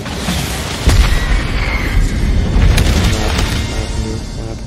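Deep booming explosions in the video game Ghost of Tsushima, heavy rumbling blasts landing close and loud one after another over a sustained roar.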